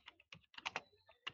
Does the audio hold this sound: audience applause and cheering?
no